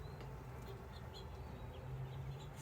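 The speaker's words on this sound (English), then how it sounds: "There's a bee." A bee buzzes faintly around a porch with bird feeders, its thin drone drifting in and out over a steady low outdoor hum, with no talking.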